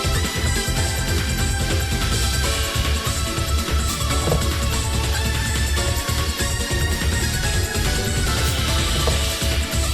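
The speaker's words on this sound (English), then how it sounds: "So if Ape Escape sounds like this, then maybe I have to play some Ape Escape." Music from the Ape Escape video game plays loud and dense throughout, with a steady rhythmic beat and layered melodic lines and no talking.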